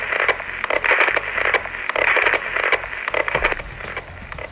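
Static hisses and crackles from a two-way radio on a monorail, a loud, steady broadband rush broken by irregular crackling bursts throughout, with no voice coming through.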